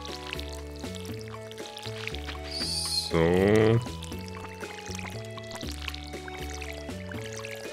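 A watering can pours water over crops in the video game Stardew Valley, a short splashing gush of about half a second rising over gentle background game music, with a voice speaking briefly.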